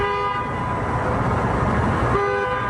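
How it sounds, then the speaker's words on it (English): Several car horns honk back and forth in steady overlapping tones, with gaps between blasts: self-driving cars in a parking area at 4 a.m., sounding their horns at one another for no clear reason. "That sound of honking is waking up neighbors lately."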